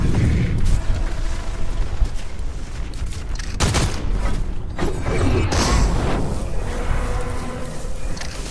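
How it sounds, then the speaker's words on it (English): Assault rifle fire in the Fortnite battle royale, a loud continuous stream of gunshots and booming impacts throughout, with denser bursts midway. "I did fire a few shots out of it"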